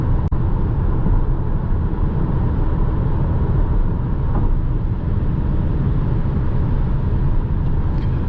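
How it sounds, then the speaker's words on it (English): Steady broadband wind and road rush inside a 2020 Audi A3 Sportback cruising at about 150 at night, a constant even roar with no speech. "A little bit more wind noise"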